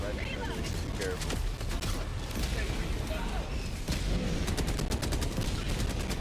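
Sentry and autocannon fire rattle through a Helldivers 2 battle on a high-difficulty mission, with rapid bursts of shots and heavy thuds stacking up in dense volleys while players talk over the combat.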